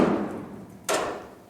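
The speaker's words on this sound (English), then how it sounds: "I'm going to get the chisel in there, and I'm going to move that away from the sheet metal on the back" A chisel prying sheet metal away from a car's quarter panel during a GTO restomod, heard as a dull thump followed by a sharp metallic knock that rings briefly, close and fairly loud with no talk.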